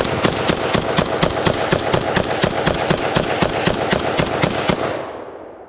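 Rapid gunfire from a semi-automatic Beretta AR70/90 rifle firing steel-case ammunition outdoors, about twenty loud sharp shots in a fast steady rhythm, each ringing into the next, fading after the last shot with no speech.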